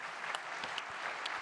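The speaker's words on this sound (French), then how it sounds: "on vous applaudit" Steady applause from a small audience at a building-industry round-table, a continuous patter of clapping hands lasting the whole moment with no voices over it.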